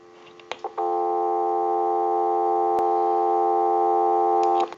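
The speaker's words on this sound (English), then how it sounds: "now we'll give you some dial tone with the pickup" A rotary desk telephone gives a steady, loud dial tone that holds for about four seconds after a few brief clicks of the handset pickup, with a short click midway and no talking.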